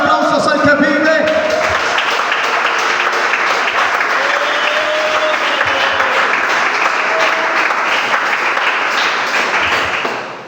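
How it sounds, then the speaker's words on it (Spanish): A church congregation breaks into sustained applause during a Spanish-language service, a thick, loud roar of clapping that runs for about ten seconds, with a voice speaking briefly at the start before the clapping swells and then fades at the end. "Denle ofrenda de aplausos al que vive."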